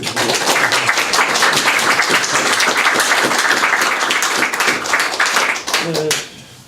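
Conference audience clapping for a guest speaker, a loud, sustained patter of many hands that cuts off abruptly near the end as a voice begins.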